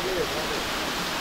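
Heavy water flow at Moola Kona Waterfalls in Andhra Pradesh, swollen after a day of heavy rain, fills the clip with a steady, loud broadband roar and no break in the rush.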